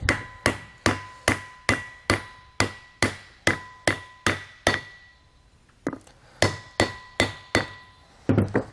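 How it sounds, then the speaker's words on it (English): A steady series of sharp hammer blows on a wooden block, seating an oil seal for a disc brake kit on a 2020 Jayco Pinnacle, about two per second, with a brief pause before the strikes resume. "We're going to hammer this down to seat it correctly."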